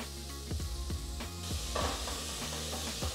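Half an onion caramelizes in oil in a pot over medium heat while being stirred constantly; a soft sizzle and stirring sit under prominent tonal music.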